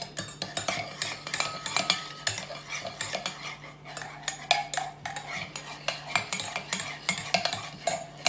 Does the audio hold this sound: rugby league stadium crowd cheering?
no